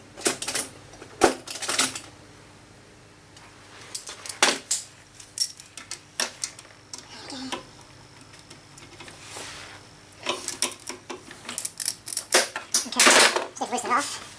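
Socket ratchet on a 1/2-inch drive during a lathe teardown, heard as bursts of sharp metallic clicking in irregular runs with pauses between, close and fairly loud.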